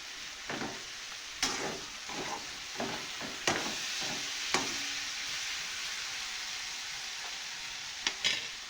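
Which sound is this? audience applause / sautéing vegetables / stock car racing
sautéing vegetables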